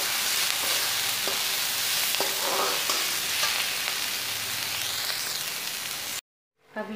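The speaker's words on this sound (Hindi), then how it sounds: "इसका फ्लेम मैंने मीडियम कर दिया है, थोड़ी देर और पकाएंगे ताकि सब्जी कच्ची ना रहे" Vegetables for rawa upma frying steadily over a medium flame, a continuous close sizzle with occasional stirring clinks, alone without talk, before cutting off abruptly near the end.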